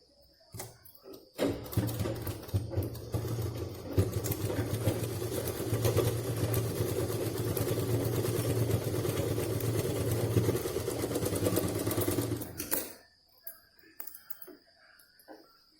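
A sewing machine stitches a cloth purse in a steady, continuous run lasting about eleven seconds, close and fairly loud, then stops abruptly, leaving quiet clicks and handling sounds.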